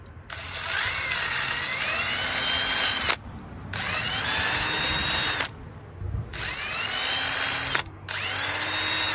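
A power drill cleans a bolt for a 1980 Dodge D200 3/4-ton truck with a 360 V8, whirring loudly and close in three long bursts separated by short pauses.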